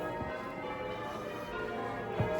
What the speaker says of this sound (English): you just gotta love the sound of cathedral bells